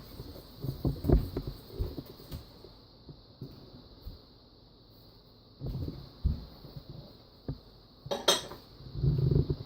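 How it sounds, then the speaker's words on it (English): A spoon clinks and scrapes against a bowl as a baking mixture with butter is stirred in a home kitchen, with scattered bursts of knocking between quieter pauses. "And now you need to keep stirring."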